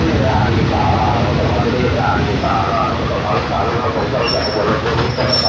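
A train at Sala Thammasop railway station on the outskirts of Bangkok, a loud, steady rumble of rolling rail cars with wheel noise and a thin high squeal late in the sound, continuous throughout.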